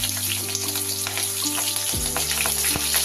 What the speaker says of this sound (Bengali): এবার এই তেলটার মধ্যে আমি দিয়ে দেব সামান্য একটু কালো জিরে আর চেরা কাঁচা লঙ্কা।